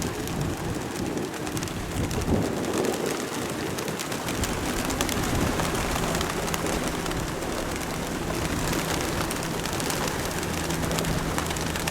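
Racing pigeons coo in a Florida loft, soft repeated calls over a constant hiss of background noise.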